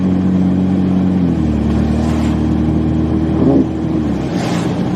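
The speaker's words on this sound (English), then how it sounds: "I do sound like Speed Racer with this massive exhaust leak" A car engine with a massive exhaust leak idles loudly and close, giving a steady, rough low drone that shifts pitch slightly partway through, in a snowy setting with no talking.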